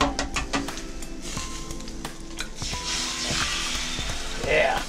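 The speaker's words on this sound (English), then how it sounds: "And then down for an egg we go." An egg sizzles on a hot griddle burner turned down to low, a steady hissing fry that swells toward the end, with a few clicks and taps of cooking tools over it.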